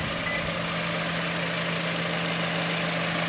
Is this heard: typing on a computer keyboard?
no